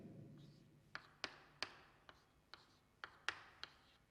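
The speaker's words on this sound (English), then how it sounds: "let me write the structure of acetic acid" A pen writes out a chemical structure on paper in a quiet room, faint scratching broken by about eight small, distinct taps as strokes begin, unhurried and close.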